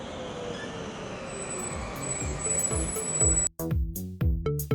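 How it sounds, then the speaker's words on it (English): Trolleybus passing on a street in Salzburg, Austria: a rising rolling rush of tyres and motor building over a few seconds, then sharp rattling, clanking bursts as it goes by close. "What Salzburg lacks in trams, it makes up for with trolleybuses."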